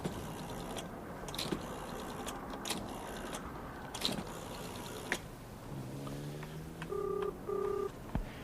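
A telephone is dialed in a 1973 setting: a quiet run of clicking mechanical dial turns and key sounds, followed by a few short electronic tones near the end, with no talking.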